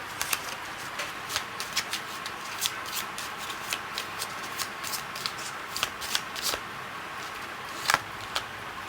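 A deck of Lenormand cards being shuffled by hand, soft riffling with a string of crisp taps and flicks at an uneven pace, close and quiet with no one talking.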